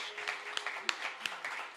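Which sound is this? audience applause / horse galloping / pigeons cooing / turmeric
audience applause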